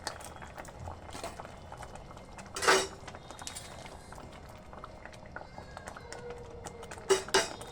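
Palak paneer curry bubbles in a pan, with a soft steady simmer and a few louder gurgling bursts and clinks partway through; no one speaks.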